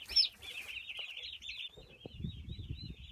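Chickens clucking nearby in a sustained run of calls, with low shuffling and rustling from the birds underneath.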